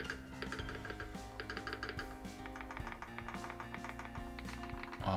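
Typing on a Keychron mechanical keyboard in a Q3 housing: quiet, quick clacking keystrokes in an irregular flurry over a soft steady tonal background.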